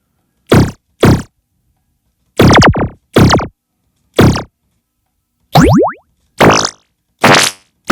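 Eight short, punchy synthetic hits in an uneven sequence, each with a bubbly, pitch-bending wobble; loud and isolated with silence between them.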